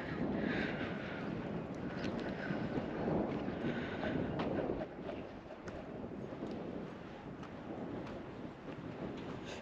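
Wind blowing on a sunny day near a pebbly beach, a steady faint rushing and buffeting against the microphone with light gusts, and no clear speech.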